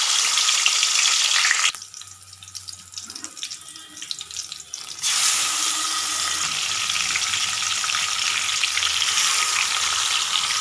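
Masala-marinated chicken pieces sizzling in hot coconut oil, a loud steady hiss of frying that drops away for a few seconds and then returns at full strength, with no talking.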